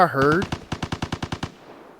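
A rapid burst of about ten machine gun shots in the video game Vigor, in even rhythm, loud and close, following a brief moment of voice-like sound, then fading into a short echo.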